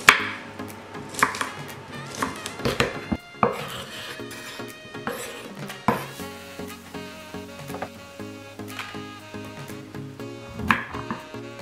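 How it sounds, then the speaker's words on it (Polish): A knife taps steadily on a cutting board while slicing washed bell pepper and cleaned mushrooms, with sharp, closely spaced chops, a few harder knocks and faint kitchen clatter underneath. "pokroję również umytą paprykę oraz oczyszczone pieczarki"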